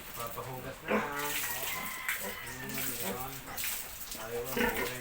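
A pig being washed with water, with a steady wash of running water and repeated squealing cries close by, and voices talking over it throughout.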